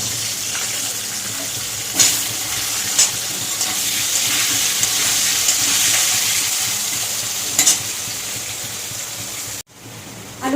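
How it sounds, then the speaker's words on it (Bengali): Cut potatoes frying in a pan of oil, a steady broad hiss running throughout, with a few brief sharper clatters and a sudden cutoff near the end. "এই তেলেই আমি আলুটা ভেজে নেব"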